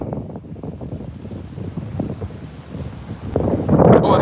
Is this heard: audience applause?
no